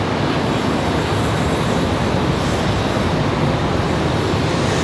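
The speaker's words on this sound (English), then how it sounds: "There goes that A319 we saw a minute ago, or A320" Airbus A319 or A320 airliner departing Charlotte Douglas airport, a loud, dense, continuous jet roar filling the whole stretch without pause, no voices.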